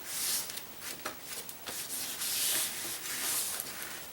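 Paper being scored to make a homemade watercolor block, a close, steady rubbing scratch with brief harder strokes, fairly faint and without talk.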